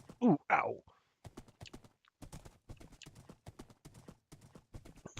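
A horse in the Minecraft video game runs through trees. Two loud whinny-like bursts come first, then a quick, even run of hoof clip-clops close by that carries on to the end.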